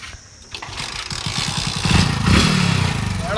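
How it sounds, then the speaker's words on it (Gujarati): A motorcycle kick-started on a roadside, a quick run of rapid thumping engine pulses building into a loud, rough idle that grows stronger. "આ જો કિક મારે બાઇક ની"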